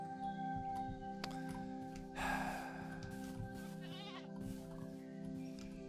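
Goats bleating in Minecraft, a few short wavering cries over a steady game ambience and background music, moderately loud and with no talking.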